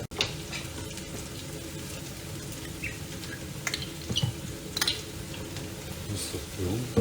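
Chopped garlic frying in hot oil in a home-kitchen pan, giving a steady close sizzle with occasional light stirring clicks throughout.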